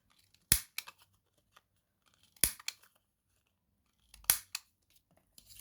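Scissors snip paper corners for a handmade card: three quiet, crisp cuts spaced about two seconds apart, each followed by a faint rustle, with near silence between them.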